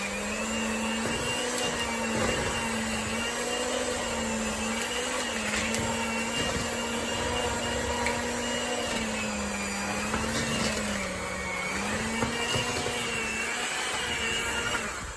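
An electric mixer strains through thick peanut butter cookie dough for monster cookies, a steady close motor whine with slight wavering pitch throughout.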